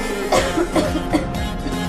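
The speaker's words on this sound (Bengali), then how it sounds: "3 দিন ধরে কাশি, সারা রাত ধরে কাশতে কাশতে একটু ঘুমাইতে পারে না" Several harsh coughs in a row from a person with a three-day cough, close to the microphone, with brief pauses between them and no talking.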